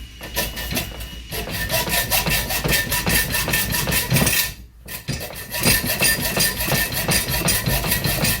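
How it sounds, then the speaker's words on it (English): A hacksaw cuts through a metal bug shield bracket on a 1977 Chevy C10 pickup in steady, rapid rasping strokes, close and loud, with one brief pause partway through. "We're just going to use the hacksaw and cut it off."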